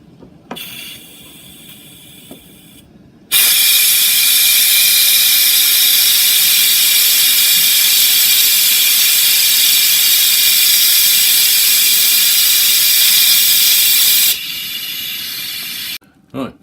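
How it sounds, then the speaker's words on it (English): A pressure cooker steamer vents with a loud, steady hiss of steam that runs for about eleven seconds and then stops abruptly. Quieter background noise comes before and after it. "now we're going to do some venting of the steamer"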